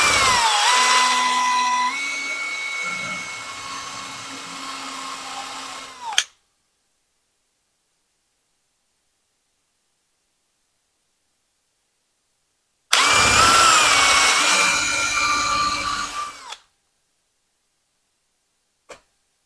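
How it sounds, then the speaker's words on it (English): Power drill countersinking holes and driving screws into black walnut for a rustic live-edge window frame, two loud sustained whirring bursts separated by a long silence, with a brief tap at the very end. "We're going to put some countersink some holes right in here, and we're going to put a couple screws in here"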